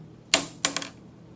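Two sharp, dry taps of a pencil striking a hard surface, close and distinct, separated by a brief pause, with a faint rattle after the second.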